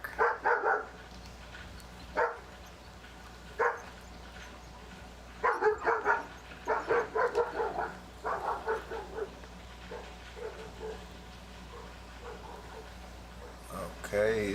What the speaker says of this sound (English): I think he's just barking to bark.